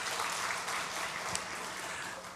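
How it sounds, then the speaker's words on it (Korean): A church congregation claps together during a Korean sermon, a dense, steady patter of applause at moderate distance lasting a couple of seconds. "박수하겠습니다."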